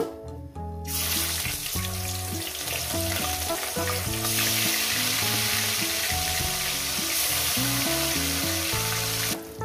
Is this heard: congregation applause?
no